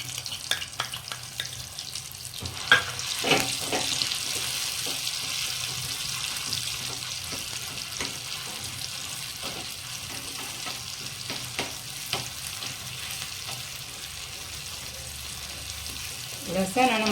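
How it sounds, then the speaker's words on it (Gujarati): Garlic and red chili chutney sizzles in hot oil with a steady, soft crackle through the whole stretch, broken by occasional spoon clinks and stirring. It is heard up close, with a little talk now and then. "હવે આપણે તેલ ગરમ થઈ ગયું છે હવે એની અંદર આપણે ચટણી નાખીશું"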